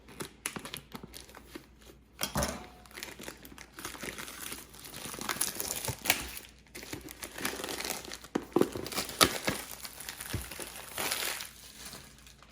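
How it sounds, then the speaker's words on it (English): Plastic wrap is peeled and crinkled off a Haidilao tomato beef self-heating hot pot package, with irregular close crackling and tearing bursts over several seconds and no talk. "let me take off this plastic because the glare from the lights is kind of annoying"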